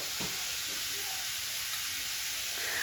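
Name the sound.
tempering spices sizzling in oil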